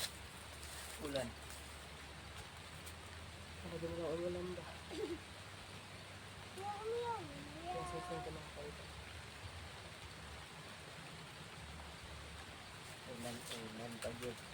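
Steady rain falls outdoors as a soft, constant hiss throughout, with several people talking and calling out in short bursts over it.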